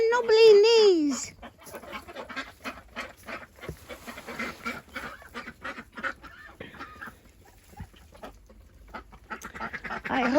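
Backyard ducks give a loud honking quack at the start, then softer clucks and scattered bird calls follow with some rustling. The flock is kept in a tunnel enclosure in the UK.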